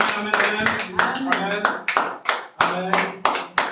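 A church congregation claps in bursts of applause, close and lively, with voices calling out over the clapping.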